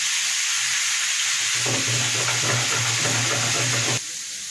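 Goat meat and potato pieces fry together in a pan with a loud, steady sizzle and bubbling hiss, close up, dropping off abruptly near the end; no talk.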